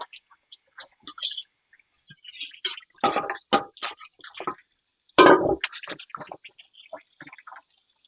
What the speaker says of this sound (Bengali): মাছটা এবার ভালো করে ধুয়ে নেব।